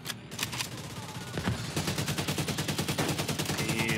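Automatic weapon fire from the shooter video game Tom Clancy's The Division, a fast, steady rattle of rapid shots that grows denser and continuous after a brief opening, loud and close with no talk.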